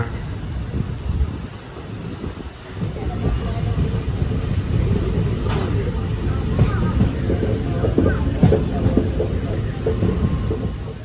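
Low rumbling and rattling of a moving train, steady throughout, with a clank near the middle and faint voices mixed in.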